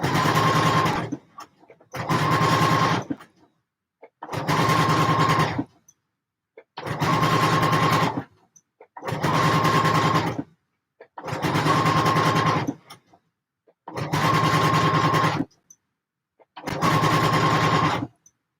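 A sewing machine stitching a garment lining runs in eight separate bursts of close, steady whirring, each lasting about a second and a half with short pauses between them, and no voices.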